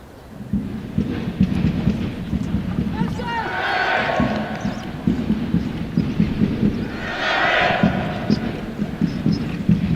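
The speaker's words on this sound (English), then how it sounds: "Well, the crowd are getting involved for the first time this afternoon." Stadium crowd at a women's Premiership rugby match, Saracens against Trailfinders, cheering and chanting in two swelling waves with a steady thumping drum beat underneath and a continuous roar throughout.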